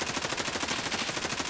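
A shotgun blasts in a video game, with shots coming in a rapid, dense, continuous string that keeps up loudly for the whole moment with no clear gaps.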